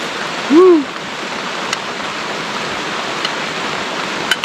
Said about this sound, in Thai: ฝนมันตกก่อนนะครับ